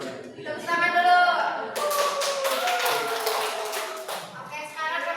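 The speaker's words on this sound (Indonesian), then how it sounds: "Tepuk tangan dulu" A group of students in a micro-teaching classroom bursts into a few seconds of dense applause, with voices speaking just before the clapping, over it and after it fades.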